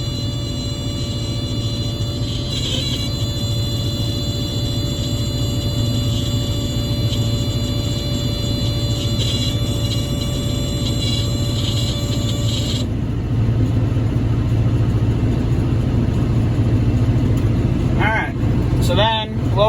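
A John Deere 5075e tractor drives a New Holland 630 round baler baling alfalfa hay, a steady close engine drone and mechanical rumble that holds constant, with the tone shifting partway through.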